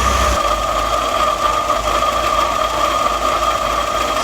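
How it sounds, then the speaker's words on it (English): An MGB GT engine idles steadily while warming up, a continuous loud mechanical hum with a faint rhythmic tick running through it, close and uninterrupted with no talking. "we're warming up the engine now"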